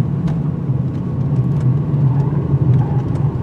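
A 2020 Mercedes-Benz C300 Cabriolet, rear-wheel drive, accelerating hard to try spinning its rear wheels, giving a steady loud engine drone and road rumble with no voices over it.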